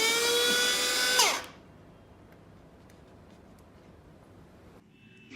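A handheld vacuum cleaner motor runs at a high, steady whine for about a second, then cuts off and spins down, leaving faint background hiss.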